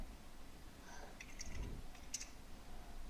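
A computer keyboard is tapped sparsely while a formula is entered into a Word table, giving a few quiet, close clicks spread over a few seconds.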